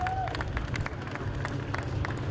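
Mechanics and well-wishers from the Mini Challenge paddock applaud at the Silverstone GP podium as champagne is sprayed, scattered claps and crowd hubbub carrying on with a faint tonal whistle at the start.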